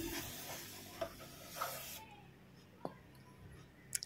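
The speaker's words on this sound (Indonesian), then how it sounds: "Kita semprot-semprot biar rontok kotorannya." Cleaner sprays onto the CVT case of a Honda Beat FI scooter, a broad hissing burst for about two seconds, then quieter with a few short taps and clicks.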